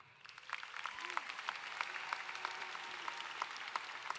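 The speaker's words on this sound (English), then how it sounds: "join me in applauding the incredible faculty and staff of Tallwood High School" A high school graduation audience at Tallwood High School applauds the faculty and staff, a quiet, distant patter of many hands clapping that swells briefly and holds steady while a voice speaks faintly.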